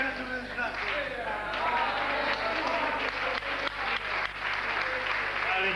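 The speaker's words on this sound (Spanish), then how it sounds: "Un fuerte aplauso para Chivi por haber venido otra vez al 1, 2, 3." A studio audience at the Spanish TV game show Un, dos, tres gives a guest a sustained round of clapping, dense and even from start to finish, with voices mixed in.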